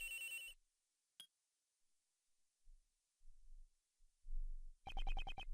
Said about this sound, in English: Whoops, excuse me, phone call.